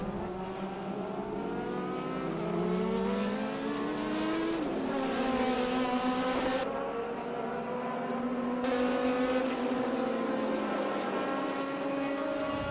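A red March prototype race car in old Gold Leaf Lotus livery passes on the circuit at a prototype race at PIR, its high engine whine rising, sweeping past with a clear pitch drop, then holding loud and steady.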